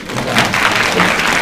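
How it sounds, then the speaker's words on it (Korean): An audience at a science high school admissions information session breaks into a short, dense round of applause, a loud rushing clatter with no talk over it. "박수 한번."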